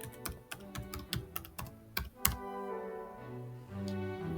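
Password being typed on a computer keyboard during software setup, a quick run of close, crisp key taps in bursts, then a short pause and a steady background hum.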